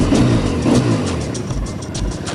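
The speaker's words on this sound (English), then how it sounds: "turn it on, engine kill switch off and fire it up." Triumph Bonneville T100 865cc twin-cylinder motorcycle engine firing up and running, a steady low rumble with a brief rise in revs near the start, close and fairly loud with no talk.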